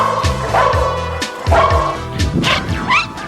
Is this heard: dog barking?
yes